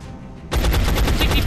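Soldiers in the video game XCOM: Enemy Unknown open fire, a sudden loud burst of rapid automatic gunshots that starts abruptly after a short quiet lead-in.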